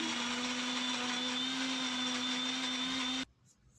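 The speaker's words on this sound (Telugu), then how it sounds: "గ్రైండ్ చేసుకొని పేస్ట్ లాగా తయారు చేసుకుంటున్నాను" A mixer grinder whirring steadily as it blends cooled boiled spinach into a paste for palak paneer, a constant motor drone that abruptly stops near the end.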